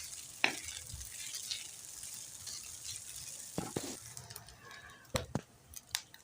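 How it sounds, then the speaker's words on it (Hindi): Chicken roasting in a pan while a spoon keeps it moving, a faint steady sizzle with a few scattered scrapes and clicks, quiet and close, no voices. "चिकन रोस्ट करते हुए चमचा हम मुसलसल चलाते रहेंगे, वरना हमारा चिकन चिपक जाएगा, जल सकता है।"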